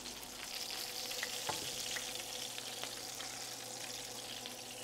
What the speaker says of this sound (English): Woohoo, it's sizzling, it's got a lot of color